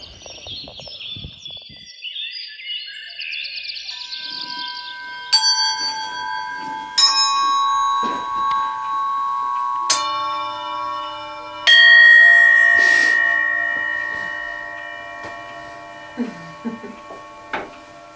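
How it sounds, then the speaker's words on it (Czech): Church bells ring out in Prague, a series of loud, resonant strikes that layer and decay one after another, some close and clanging, with faint birdsong at the start and brief background voices. "Barbánské zvony. Krásně zní."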